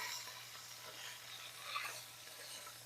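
Pot roast meat sears in a pan with a faint steady sizzle and light scraping, close but low in level, and no one speaking.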